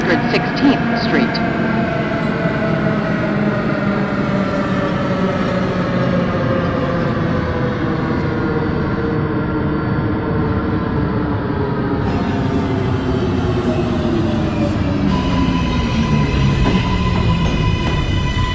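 An NYC Subway R142A train in the OpenBVE simulator game runs along, its traction motors whining in several steady tones that slowly fall in pitch, over constant loud rail rumble, with a voice heard at times.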